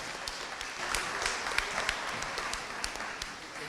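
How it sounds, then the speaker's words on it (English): Applause from an audience at a 2018 Levine Academy graduation ceremony, a steady wash of many hands clapping at moderate distance, fairly even throughout with a few sharper individual claps standing out. "let's give them a round of applause"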